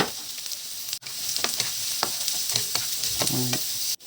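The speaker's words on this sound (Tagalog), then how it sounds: "Pagkatapos ay ginisa itong ating sibuyas, bawang, haluan. At ilagay na natin itong carrots at zucchini." Onion, garlic, carrots and zucchini sizzle in a hot pan with steady frying crackle, broken by repeated scraping and stirring strokes and a couple of sharp clanks of the utensil, with no talking.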